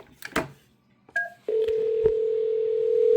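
A desk phone rings back after an extension is dialed on a FreePBX office system: a few short tones, then a steady, loud ringback tone that holds without a break to the end.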